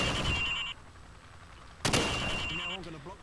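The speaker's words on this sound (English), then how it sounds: "Fire from the hip." Hip-fired gunshots in the video game Call of Duty Modern Warfare, a burst of rattling shots at the start and one sharp loud crack midway, with a voice speaking briefly afterward.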